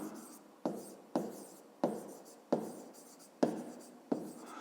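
Handwriting with pen on paper during a 5th-grade math exercise, six rhythmic scratchy strokes, each starting sharply and fading, close and quiet with no talking.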